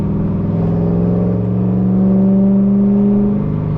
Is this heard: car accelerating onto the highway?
yes